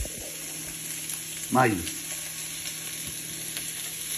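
Vegetables sauté over medium heat with a chicken bouillon cube for Dominican-style red beans, a low, steady sizzle running throughout while a voice briefly speaks a single word.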